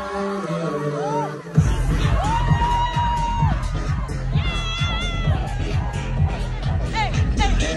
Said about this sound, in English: There's a big fat crowd here.